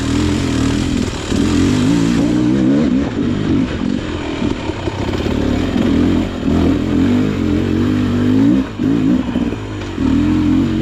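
A 2024 Beta XTrainer dirt bike climbs hills slowly in first gear with 48-14 gearing. The engine gives a loud, close, continuous low-rpm chug with small surges and wavering pitch.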